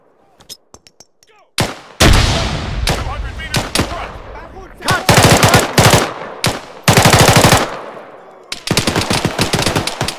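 Automatic rifle and machine-gun fire rings out in an Arma 3 hostage-rescue firefight. Loud, close bursts of varying length are separated by short pauses after a few scattered opening shots, with shouted voices between them.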